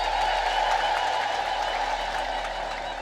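An Ethiopian Orthodox church congregation applauding during a sermon, sustained dense clapping from a crowd with a bright ringing tone mixed in, loud and continuous with no pause.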